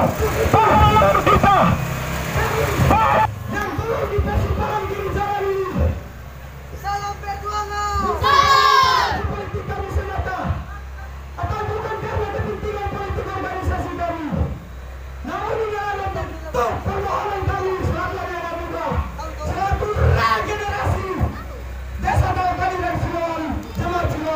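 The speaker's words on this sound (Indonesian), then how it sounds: "Sorak-sorak bergembira" Crowd at a village election rally on Pulau Morotai cheering and singing together, loud and continuous with shouts and voices rising and falling over about twenty seconds.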